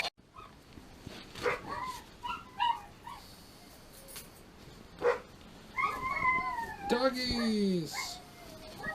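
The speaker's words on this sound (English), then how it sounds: "Doggies!" Dogs whimpering and yipping nearby during a service call, with high whines and short yelps scattered through the clip, while a person talks over them.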